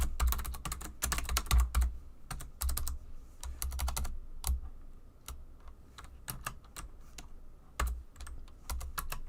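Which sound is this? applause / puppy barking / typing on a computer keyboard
typing on a computer keyboard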